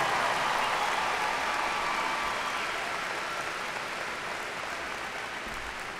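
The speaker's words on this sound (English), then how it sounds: "I know that you will join me in a round of applause for this outstanding class of distinguished" Steady, distant applause from the audience at a 2018 Kecoughtan High School graduation ceremony, a soft, even wash of clapping that slowly fades over six seconds with no talking.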